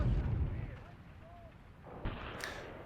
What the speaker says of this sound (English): Just waiting for this high explosive to come in